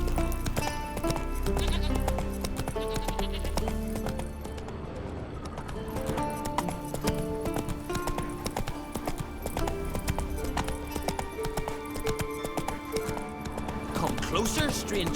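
Horse hooves clip-clopping at a steady run in The Witcher 3, with occasional neighs and whinnies over a dense bed of game music and ambience, while a voice talks intermittently.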